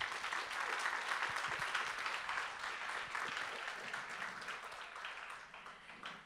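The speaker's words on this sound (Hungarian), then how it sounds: "Szerintem ő is megérdemel egy tapsot." An audience at a winter camp evening claps in a dense, lively burst, strongest at the start and gradually thinning and fading toward the end, heard from within the room without speech.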